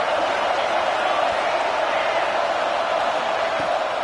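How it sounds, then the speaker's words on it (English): A football crowd cheering on a fourth down, a loud, sustained roar that fills the stadium evenly from start to finish while a commentator talks over it. "Fourth down, and this crowd trying to help this defense rise to the occasion."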